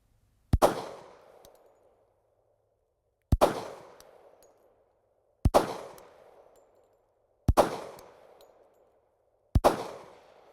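Five sharp, loud gunshots from a Springfield Armory Trophy Match 1911 pistol, evenly spaced about two seconds apart, each with a short ringing echo and no talking.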